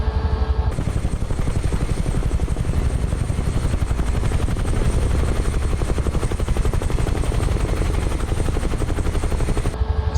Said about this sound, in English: Such a gorgeous helicopter to fly.